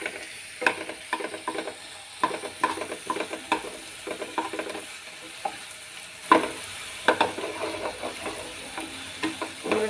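Chopped onions stirred and sautéed in a pan for a shallot chutney, with close, repeated scraping strokes over a steady sizzle and no voices.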